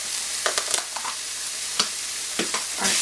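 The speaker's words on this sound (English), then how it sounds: "now what I'm going to do is add in our taco meat," Cooked taco meat sizzling in a hot pan, a steady frying hiss broken by a few short scrapes and taps as it is stirred, close and without speech.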